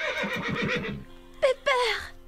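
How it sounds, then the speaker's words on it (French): A cartoon horse gives a bright, close whinny in two short bursts, right after a voice speaks. "Zoé monte son nouveau cheval et elle ose le faire devant la pauvre Pepper."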